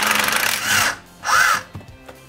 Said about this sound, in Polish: A drugą stronę podłączę pod wkrętarkę impaktową. Ustawię ją na odkręcanie.